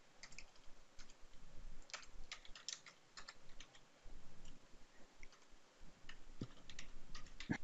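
Fingers tapping a computer keyboard while entering a drafting note in CAD software, quiet irregular clicks in short bursts with brief pauses, close and faint.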